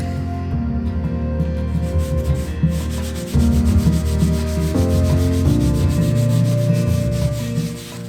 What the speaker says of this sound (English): So I put down some spackle, drywall mud. I'm going to go ahead and sand it down.